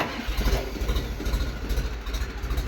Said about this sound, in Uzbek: Hozirda zavod qilib haydab ham ko'rsatadi